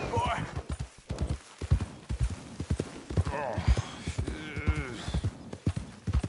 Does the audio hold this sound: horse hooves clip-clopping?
yes